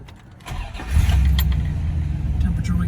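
A 1967 Pontiac GTO cranks briefly and fires up, its engine settling into a steady, rumbling idle close by.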